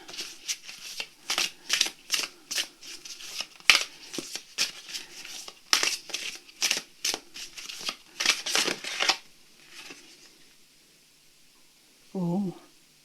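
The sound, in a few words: shuffling oracle cards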